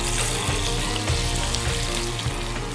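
Olive oil sizzles steadily in a hot pan ready for lean venison, a dense continuous frying hiss with faint low clatter, close and fairly loud throughout, no voices.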